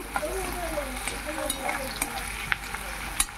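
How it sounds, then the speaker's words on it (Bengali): Onions frying in oil with a bay leaf in a wok make a dense, constant sizzle up close, punctuated by sharp scraping clicks and knocks as they are stirred. "পেঁয়াজ ভাজা হচ্ছে,"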